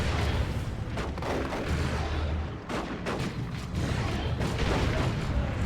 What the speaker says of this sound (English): Manticore Strike going off somewhere, I think.